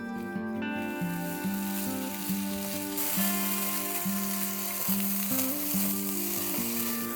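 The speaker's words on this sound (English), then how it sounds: "I'm going to add in the sliced potatoes. Just saute these on high flame." Sliced potatoes sautéing in a touch of oil on high flame, a steady hissing sizzle running under prominent background music.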